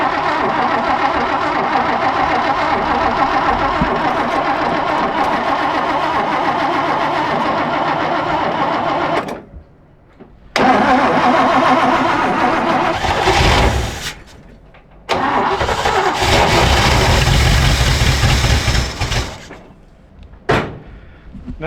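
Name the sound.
GMC truck engine cranking, trying to start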